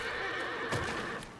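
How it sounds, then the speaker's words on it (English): A horse in the video game Black Myth: Wukong lets out a single loud, shrill whinny over a dense background of game ambience. "Horse mad at us again."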